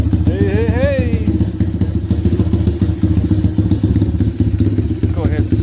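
A 125cc pit bike engine fitted with a Mikuni VM22 carburetor idles close by with a steady, rapid thumping putter, and a brief whistling tone rises over it at the start.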